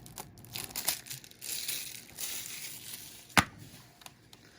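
Plastic shrink wrap is torn and crinkled off a Boss Baby: Family Business Blu-ray case, close-up crackling rustles in uneven bursts with one sharp snap of plastic near the end.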